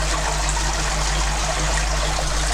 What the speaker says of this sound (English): so I just need to top the water back up a bit